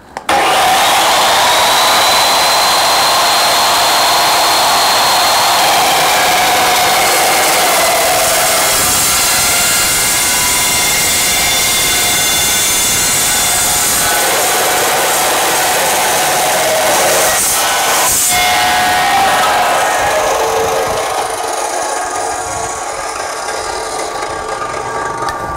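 A power saw cuts through 2-inch square, 1/8-inch wall mild steel tube in one loud, continuous grinding whine that holds for about twenty seconds, then eases and changes tone near the end.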